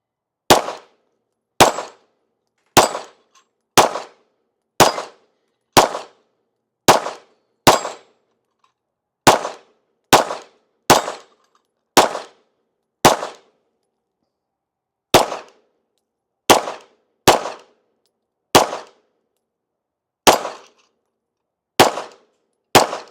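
Springfield Echelon pistol firing about eighteen sharp, loud shots in steady strings of roughly one per second, with a short pause partway through, heard alone with no talk.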